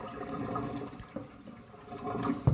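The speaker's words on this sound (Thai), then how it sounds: "ขยำแล้วก็บีบเทน้ำทิ้ง" Water splashing and draining as soaked kaffir limes are squeezed and the liquid poured away, a close, gurgling, uneven pour of moderate loudness.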